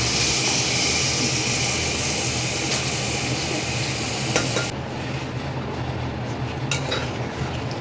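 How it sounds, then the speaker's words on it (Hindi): Vegetables fry with cumin in a pan, giving a loud, continuous sizzle that eases slightly toward the end, with faint clinks of utensils. "पहले वेजिटेबल को डाल के जीरा के साथ उसको अच्छे से भून दो, हल्का मसाला दे के"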